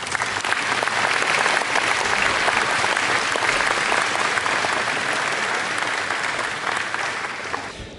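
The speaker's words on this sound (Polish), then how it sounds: "proszę państwa, wielkie brawa dla pani poseł." An audience at a New Year concert in Kroczyce applauds, a loud, dense and sustained round of clapping that continues evenly for several seconds before tapering slightly at the close.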